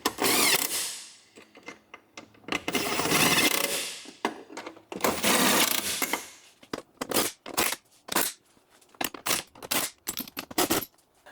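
Ratchet tightening 10 mm bolts on the engine of a 2010-2015 Toyota Prius during spark plug replacement: bursts of rapid clicking, then shorter back-and-forth ratchet strokes, close and fairly loud.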